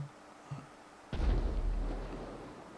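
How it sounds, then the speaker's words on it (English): An explosion in a multiplayer video game, likely a racing session: a sudden deep boom after a quiet second, then a loud rolling rumble that slowly fades over the next couple of seconds. "Just heard an explosion."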